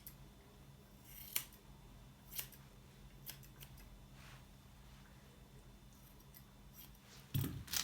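Scissors snipping a Havanese dog's hair during grooming, a few faint separate crisp cuts spaced a second or so apart over a low steady room hum, ending with a brief louder rustle.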